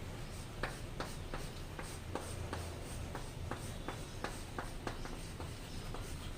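Chalk or a marker writes on a classroom board during a physics lesson, tapping and scratching in short, irregular strokes against steady room noise, with no one talking.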